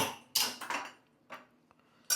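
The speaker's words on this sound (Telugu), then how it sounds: "డైరెక్ట్గా కుక్కర్ గిన్నె పెట్టేసుకుంటున్నాను" A metal pressure cooker pot is set down on a kitchen stove, giving a few sharp clanks and scrapes close by, then a quieter knock and a final clatter.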